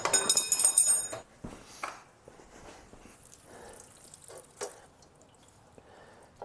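Fuel drips from the hose of a 1937 Harley Knucklehead's gravity-fed fuel system. Irregular close drips and splashes are loudest at the start, then come sparser and fainter.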